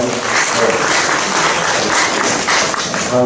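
Steady applause from a church congregation during a Wednesday worship service, a dense wash of clapping that fills the whole stretch without letting up.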